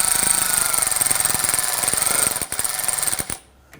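A power tool rattles in steady rapid pulses while bolts are snugged on the high-side AC suction hose of a 2009-2017 Volvo XC60, loud and close, then slows in a few bursts and stops.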